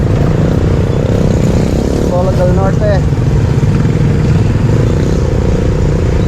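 Heavy town traffic in Antipolo, Philippines, rumbles as a loud, constant blend of motorcycle and car engines close by, with someone briefly speaking over it.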